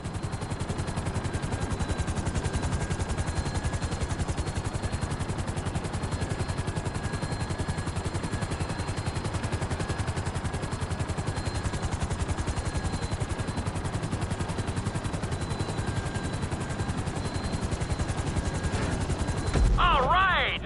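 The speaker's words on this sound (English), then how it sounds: "Bring the helicopter down gently onto the helipad." A helicopter in GTA 5 on PS5 comes down onto a helipad with a steady, dense rotor drone that runs throughout, ending in a short burst of other game noise.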